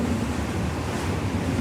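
A strong gust of wind buffets a Lagoon 46 catamaran under sail, a steady loud broadband roar of wind and rushing water with no voices.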